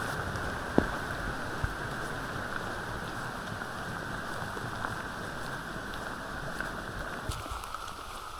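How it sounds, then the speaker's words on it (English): Steady rain falling on hikers in full waterproofs along the West Highland Way in Scotland, a constant soft hiss of drops close around, with a few sharper taps. "Rain is unfortunately getting worse."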